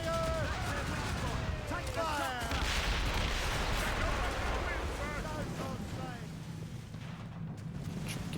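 Mortar fire and artillery booms from a naval battle in Assassin's Creed, a dense rumbling barrage with crackling blasts and whistling shells running continuously, with speech-like sounds mixed in.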